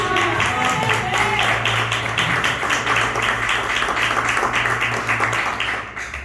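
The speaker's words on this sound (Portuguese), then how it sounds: "Glorifica com as palmas" A church congregation claps in a steady, fast rhythm during a sermon, loud and close, with a sustained tone running beneath the clapping.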